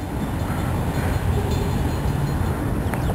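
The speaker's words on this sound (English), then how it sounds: "those are like trains there" A train rolls past on a railway behind a house on open prairie, heard as a steady, loud rumble of rail cars that fills the whole stretch without a break.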